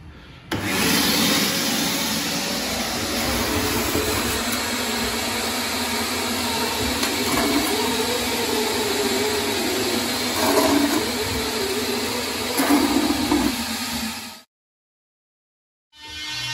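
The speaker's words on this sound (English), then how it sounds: "Got to empty the bath. So we'll just use the aquavac." An Aquavac wet vacuum drains a bathtub during a broken Saniflo repair. Its loud, steady motor roar runs close and unbroken for most of the stretch, then cuts off abruptly near the end.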